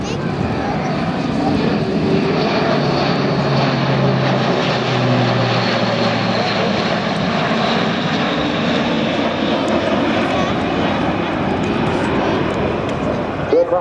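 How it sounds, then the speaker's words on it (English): Royal Air Force transport aircraft banking into a tight 360-degree orbit, a loud steady propeller and engine roar sustained throughout, with a commentator talking over it. "Aircraft being turned down to what will be a very tight 360-degree orbit in front of us."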